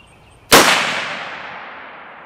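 A single sharp Savage Impulse rifle shot cracks loudly out of near silence, then its echo rings out and fades slowly over the next two seconds.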